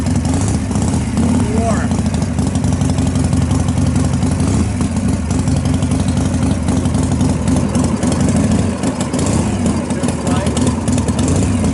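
A 1990 Harley-Davidson Fatboy motorcycle engine idles steadily and close by with a low, even rumble that runs the whole time, while someone speaks briefly over it.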